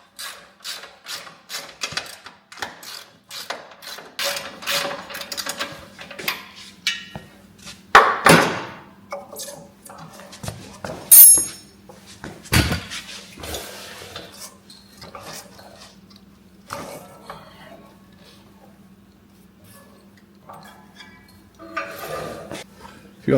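Metal clinks, taps and scrapes of wrench work on the bolts fixing a DR RapidFire wood splitter to its mounting plate, irregular and close, with a steady low hum underneath and a few louder knocks.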